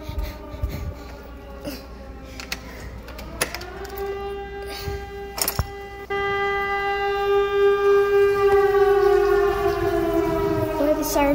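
A loud tornado siren wails nearby, its pitch slowly rising and swelling stronger partway through, with faint clicks and bumps in the background.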